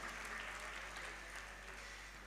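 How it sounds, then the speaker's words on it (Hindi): Faint, distant applause from a crowd at a Jain religious discourse, a smooth wash of many hands clapping beneath a steady low hum. "एक बार उस परिवार के लिए भी जोरदार तालियां"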